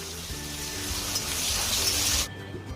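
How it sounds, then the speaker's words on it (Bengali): Onions fry in mustard oil with bay leaf and cumin in a wok, producing a close, continuous sizzle that swells and then cuts off abruptly, leaving a quiet low hum, with no voices. "এখন ভালোভাবে লাল লাল করে ভেজে নিবে।"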